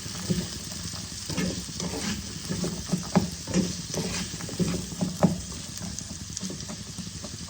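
A spinach mixture fries in a pan, a continuous sizzle with rhythmic scraping and stirring knocks every second or so, close and moderately loud.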